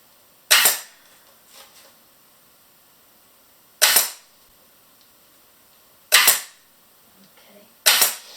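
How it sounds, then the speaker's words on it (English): Four sharp, loud clacks of a staple gun fastening upholstery fabric onto a wicker chair, spaced irregularly a few seconds apart with near silence between shots. "And then I can just staple this bit down here back together."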